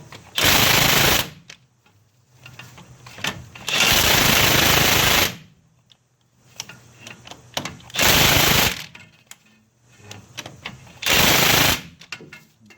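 Impact wrench torquing bolts on the front axle of a 1990s GM Chevy/GMC truck, four loud, hammering bursts of one to two seconds each, separated by quieter gaps of shop noise.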